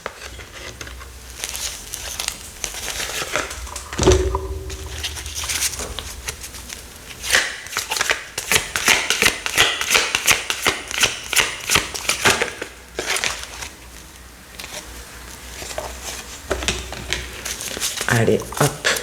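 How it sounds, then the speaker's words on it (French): Tarot cards being shuffled by hand, giving rapid papery riffling and flicking that builds into dense bursts, with a voice talking at points. "je suis en train de mélanger vos cartes"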